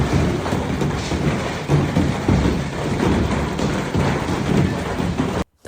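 Heavy rain with hail pounds down during a storm in Valencia, Spain, a steady dense roar with scattered thuds from hailstones striking cars and surfaces, cutting off abruptly at the end.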